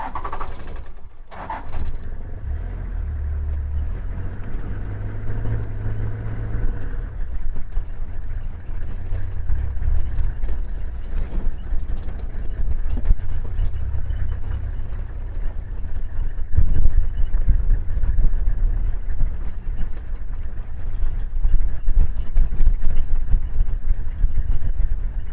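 A safari vehicle drives along through grassland, its engine a steady low rumble with rattles and bumps from the ride, growing a little louder later on.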